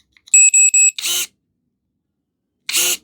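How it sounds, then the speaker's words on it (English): A DrillPro 18V electric garden pruner gives three quick tonal beeps in a row, followed by two short bursts of motor noise from the cutter, the second after a pause. Close and clear, with no talking. "If you hold the trigger and it beeps once and it beeps 2 times,"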